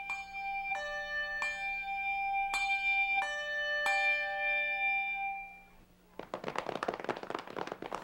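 A handbell rings out in a slow sequence of about six bright, sustained strikes whose tones overlap and decay, followed by a burst of clapping applause.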